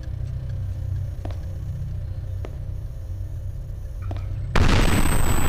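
A C4 bomb detonates in The Longest Night: House of Killer, a sudden loud, broadband explosion that erupts near the end after a steady low rumble with a few faint clicks.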